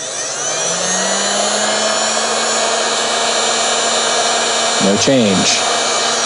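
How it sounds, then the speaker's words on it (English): A high-powered heat gun with a motor hums and blows in a steady, loud whine while running off a portable solar power station, with a brief spoken comment near the end. "With this heat gun, and when I mean dirty load is because it is a high-powered device with a motor in it."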